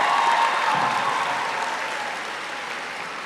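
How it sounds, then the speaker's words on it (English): A crowd at a high school graduation ceremony applauds the graduating class, a dense wash of clapping that starts full and gradually fades over a few seconds. "Would you give them another round of applause?"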